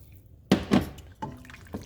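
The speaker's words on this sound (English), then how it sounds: "And now I'm going to add some water." Water is poured into a cooking pot holding egg noodles and chicken, giving a couple of short splashing gushes followed by softer trickles, close and fairly quiet, with no talk.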